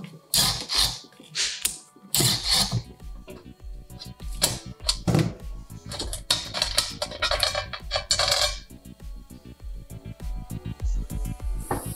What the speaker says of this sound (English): And we can do that by removing this screw right here.